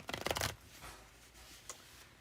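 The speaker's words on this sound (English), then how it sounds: "I'll quit shuffling when you tell me if you just want one or if we're gonna do 5." Tarot cards are shuffled in a quick run of close, crisp riffling flutters lasting about half a second, followed by faint handling sounds and a small tap, with no talk.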